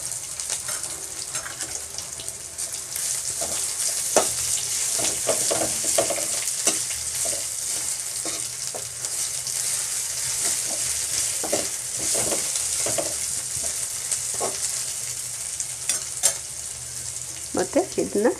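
Ginger garlic paste fries in a pan of oil for Bombay chutney, giving a steady bright sizzle with intermittent scraping and stirring clicks throughout.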